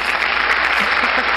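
Short burst of clapping, loud and continuous, during a casual taste-test segment, with faint murmurs underneath.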